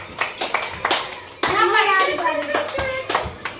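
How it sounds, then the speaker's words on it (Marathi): Young children in a pre-school class clap their hands together, loose bursts of claps giving way to a continuous patter, while an adult's voice and children's voices carry on over the clapping. "आता टाळ्या वाजवा, टाळ्या वाजवा"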